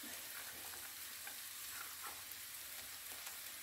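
Cheese sauce with a pinch of black pepper is stirred in a pan over heat: a steady, quiet scraping and soft sizzle runs evenly throughout, close and continuous with no voices.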